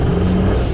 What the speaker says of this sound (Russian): Причем двигатель очень тихий. Ты слышал, как он работает?